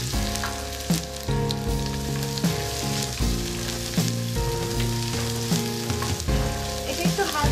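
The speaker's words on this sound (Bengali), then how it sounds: "হালকা একটু ভাজা ভাজা হলে এর মধ্যে কারি পাতা এবং পেঁয়াজ।" Curry leaves and onion sizzle steadily in hot oil in a pan, with a constant crackle and faint tonal music running underneath.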